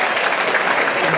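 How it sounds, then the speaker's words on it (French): Guests from Séguéla and Mankono applauding at a memorial gathering in Paris, steady dense clapping from a large audience throughout the brief moment. "Applaudissements pour Séguéla et Mankono."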